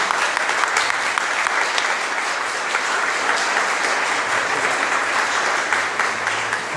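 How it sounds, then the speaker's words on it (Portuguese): A church congregation gives a round of applause, a sustained, even wash of many hands clapping for several seconds, loud and full with no voices on top. "Vamos dar uma salva de palmas para o aqui"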